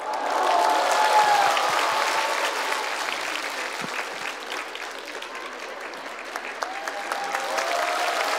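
Loud, sustained audience applause fills a year-end singing contest show, steady clapping from a large crowd with faint cheering and no talk over it.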